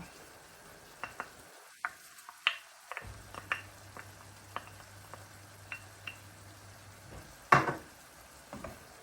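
Braised eggplants with oyster sauce being stirred in a pan, producing light irregular clicks and scrapes of a utensil against the pan over a faint sizzle, with one sharper clatter near the end.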